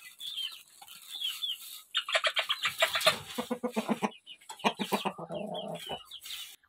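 Chickens clucking at a village coop in the evening, several birds giving rapid bursts of clucks and squawks close by, with calmer moments between the louder flurries.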